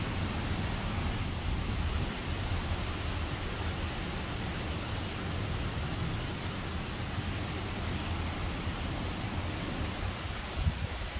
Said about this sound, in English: You see that rain going across.